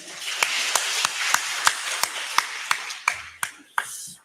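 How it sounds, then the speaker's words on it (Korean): A church congregation claps in a steady rhythmic beat, about three claps per second, loud and close, with the pace loosening toward the end. "다시 한번 격렬하게 박수 한번 해봅시다."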